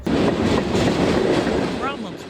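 A train rumbles steadily past a home on North Cedar Street, the track right in front of the house, with continuous heavy rolling noise and a faint metallic squeal near the end.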